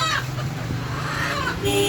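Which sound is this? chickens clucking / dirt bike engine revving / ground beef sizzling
chickens clucking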